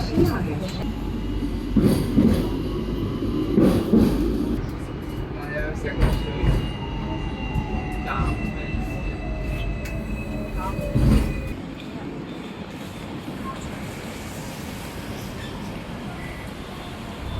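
Rumbling crowded tram in motion in Hong Kong with wheel squeals and clatter, crowd noise and voices throughout, quieting toward the end.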